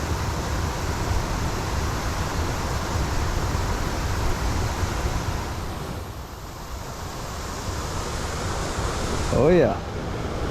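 Water pours steadily out of a lake spillway, a constant broad rushing roar close by with no break, and a brief faint tonal squeak near the end.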